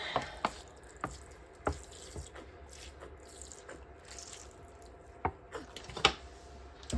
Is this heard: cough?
no